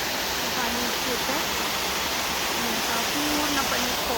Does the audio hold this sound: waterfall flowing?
yes